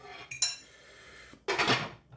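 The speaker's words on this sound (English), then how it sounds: "I'm going to put the lid on there" A lid set onto a slow cooker holding beef for sandwiches, giving a couple of close clinks and scrapes of ceramic and glass followed by a louder rattling settle, with no one talking.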